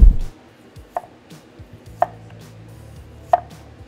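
A knife chops Vidalia onion and pickle on a cutting board, giving three sharp, distinct knocks spaced about a second apart, close and clear with no talk.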